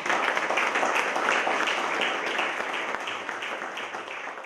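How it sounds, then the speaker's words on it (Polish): Warm, dense applause from an audience honoring young athletes at a scholarship ceremony, steady crowd clapping that holds loud and slowly tapers over a few seconds. "Jeszcze raz gorące brawa dla naszych sportowców."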